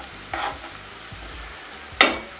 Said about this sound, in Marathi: गॅस जास्त फास्ट नाही ठेवायचा आपल्याला, मंद गॅसवरतीच आपल्याला ही लालसर परतून घ्यायची